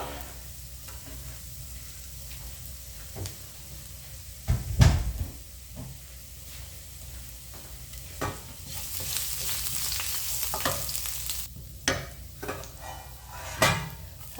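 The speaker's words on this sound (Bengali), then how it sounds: "তেলটা গরম হয়ে গেছে এবার রসুন কুচিটা দিয়ে দিয়েছি" Chopped garlic fries in hot white oil in a frying pan, giving a steady, close sizzle broken by a few sharp knocks and scrapes of a utensil against the pan.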